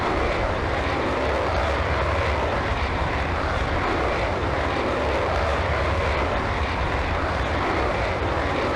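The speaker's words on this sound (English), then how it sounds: "Okay, let's go for the takeoff." A jet roars through its takeoff run in the Falcon 4 Allied Force flight simulator, a loud, steady engine rumble and whine that fills the whole stretch with no voices over it.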